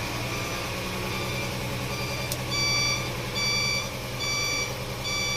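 Dump truck reverse alarm beeping in a steady repeated pattern of high tones over the low rumble of the idling truck engine, nearby and fairly loud.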